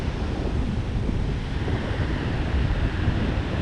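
Strong wind gusts across a beach at Wilsons Promontory, a steady loud roar of buffeting air against the microphone mixed with surf, continuous and close with no voices.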